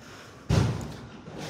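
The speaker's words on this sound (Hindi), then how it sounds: "पूरा गेट पे बम पटक रहा है" A single heavy thump against the gate of a house during an attack with bombs, a sudden loud boom-like impact that decays within a second, with no speech.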